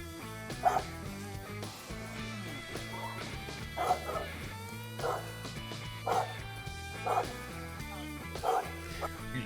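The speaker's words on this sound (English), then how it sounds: "big telegraph that there's a dog is the barking of a dog" A dog gives several short barks and yips at irregular intervals, heard over music with a steady beat.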